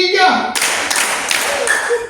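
Children in an Indonesian Ramadan Islamic boarding-school program clap a quick three-clap pattern together, sharp and loud in a reverberant room, with a few ragged stragglers afterward.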